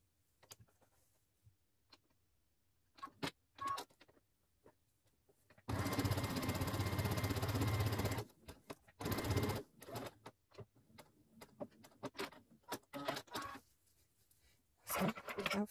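A sewing machine stitches a handmade leopard print bag in bursts, one long run of rapid mechanical whirring and several shorter spurts, separated by quiet handling clicks and rustles close by.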